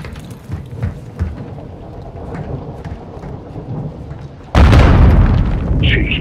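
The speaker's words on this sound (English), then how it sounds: "Grenade!" A grenade blows up in Call of Duty: Modern Warfare II on an oil rig, a sudden loud, deep blast with a rumbling tail that follows a stretch of quieter footsteps and voices talking.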